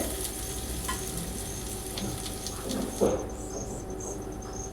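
Steady sizzling of onions frying in oil, a soft continuous crackle with a brief louder stir around the middle and no voices.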